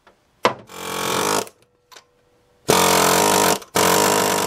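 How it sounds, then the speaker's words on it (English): An impact hammer works on the water pump of a 1998 Chevrolet K1500 Silverado Vortec truck, firing in loud buzzing bursts of about one second each with short silent gaps between them. "I think I'm going to give the impact hammer a shot and see if it'll break it loose a little faster."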